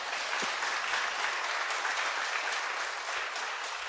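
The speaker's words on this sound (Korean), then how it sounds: "우리 찬양대 먼저 박수, 하나님께 영광의 박수 하겠습니다" Members of a Korean church congregation applaud their choir after a hymn, giving a sustained, even roar of many hands clapping together, fairly loud and unbroken by speech.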